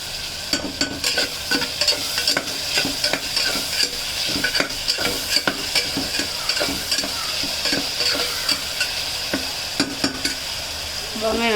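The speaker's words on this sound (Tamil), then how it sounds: "வெங்காயம் வந்து நல்லா வதங்கணும். வெங்காயம் வதங்கணும், சீக்கிரமாக வதங்கணும்." Onions with salt sauté in a pan for brinjal thokku: a dense, close sizzle punctuated by rapid, repeated spoon scrapes and taps against the pan, continuing throughout without talk.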